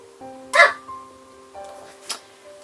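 A small dog gives two short, sharp yips, the first louder, the second fainter, close by over a quiet room with a steady faint hum.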